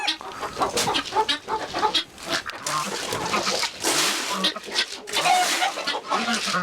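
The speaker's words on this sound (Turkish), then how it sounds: "Şimdi de tavuklarımızda." Several chickens cluck and squawk close by in a busy, overlapping chorus, with rustling and movement throughout.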